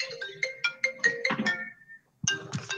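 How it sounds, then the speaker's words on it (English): Phone ringtone playing a short bright melodic phrase of quick repeated notes, a brief pause, then the tune starting again, clear and close. "Who's ringing?"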